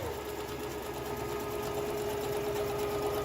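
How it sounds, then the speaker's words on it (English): A sewing machine top stitches fabric with a close, steady whirring hum and a fast rhythmic needle chatter, running continuously without talk. "At this station, the fabrics have been turned right side out, and now they simply need to be top stitched"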